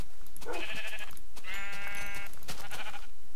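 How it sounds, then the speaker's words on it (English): Sheep in the Minecraft video game bleat three times in quick succession, each a loud, close, wavering baa, with a steady background game hum. "Stupid sheep."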